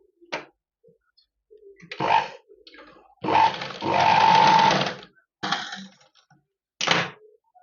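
A sewing machine stitches along the double-folded edge of a saree in short separate bursts, with a longer steady run in the middle, close and fairly quiet, and near-silent pauses between runs.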